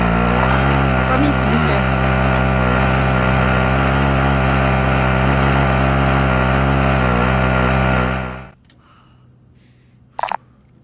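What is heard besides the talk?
vehicle driving in Call of Duty Warzone video game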